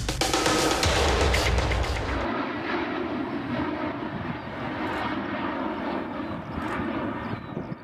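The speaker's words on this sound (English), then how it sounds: "A Ukrainian AN-178 plane has taken part in the annual air show in Berlin." Antonov AN-178 military transport plane flying at the Berlin air show, a loud, steady roar of jet engines passing overhead with a heavier rumbling burst at the start that eases into a sustained broad drone.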